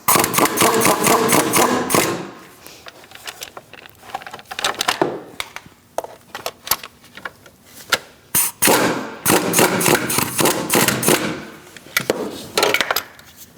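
Bolts on a 2000-2006 Mini Cooper 1.6L side bracket being run in and snugged with a tool, giving bursts of rapid mechanical ratcheting, loud and close, broken by short pauses and scattered clicks.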